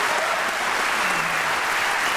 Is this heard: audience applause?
yes